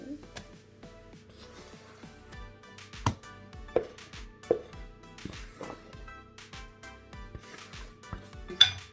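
A metal baking spoon clinks lightly against a bowl while mixing cake batter, with soft repeated taps and scrapes at an uneven rhythm under someone talking.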